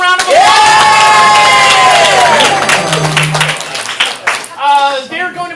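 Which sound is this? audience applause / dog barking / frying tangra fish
audience applause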